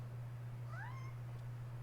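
A single short cat meow from the video game Final Fantasy XIV: A Realm Reborn, with a rising then falling pitch, heard over a steady low electrical hum.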